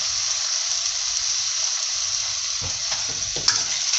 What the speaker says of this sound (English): And now all we're doing is pouring that bit of sauce that we made.